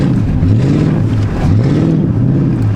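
A Crown Victoria P71 revs hard in snow with its tires spinning, the engine droning loud and close in repeated rising and falling surges through wind noise.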